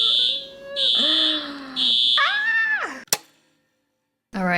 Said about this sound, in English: After what felt like forever, the fire alarm tests have finally finished